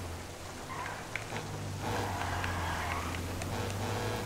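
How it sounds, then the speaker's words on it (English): Rain falls on the road in GTA 5 Online while a van drives through the wet streets. A steady broadband hiss of rain sits over a low engine hum, with light raindrop ticks throughout. "Slippery roads in the rain here."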